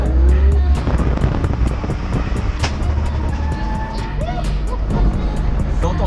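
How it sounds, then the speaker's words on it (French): Nissan S14 drift car on a dry track, engine roaring close with rising and falling revs, tire noise and a rhythmic ticking clatter, with people talking over it. "T'entends bien la voiture clac comme ça au sol."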